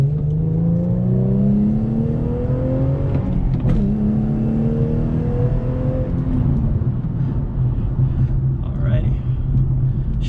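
An Infiniti or Nissan with a manual transmission accelerates hard through the gears. Loud rising engine whine drops sharply at each shift, then climbs again, with steady rumble throughout.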